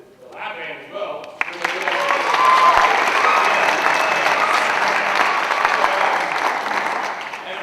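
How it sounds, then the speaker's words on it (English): Audience applause for a school lab band at a secondary jazz winter concert, rising after a quiet opening into a sustained dense wash of clapping that holds steady before easing slightly at the end. "also just round of applause for the lap band as well"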